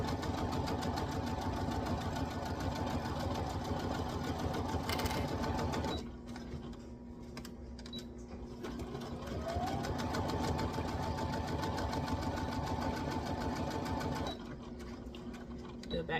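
A sewing machine runs in a steady, continuous whir while stitching a pocket onto a Simplicity 9294 garment made from vintage sheets, easing off briefly midway and slowing again near the end, with a voice talking over it.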